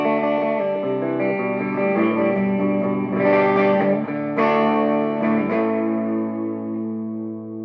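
A 2002 Epiphone Korina Flying V played through a Fender Blues Jr. III amp, volume at about 5 with reverb on, rings out in sustained, lightly overdriven chords that start to break up, with a few sharper strums and a fading tail.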